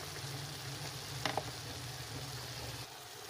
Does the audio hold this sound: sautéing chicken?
yes